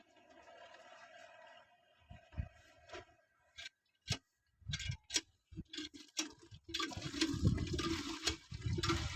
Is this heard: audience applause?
no